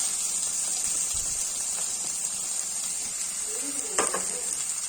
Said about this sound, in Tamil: இந்த ஸ்டேஜ்ல தக்காளி ஆட் பண்ணிடுறேன்.